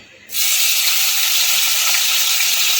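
Bitter gourd pieces dropped into hot mustard oil in a wok, a sudden loud, dense sizzle that starts abruptly and holds steady and close throughout.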